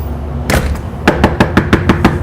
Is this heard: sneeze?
no